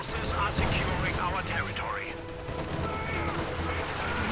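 Machine gun fire in a multiplayer war video game, rattling in bursts amid explosions and battle noise, with a commentator's voice and other game sounds layered over the combat.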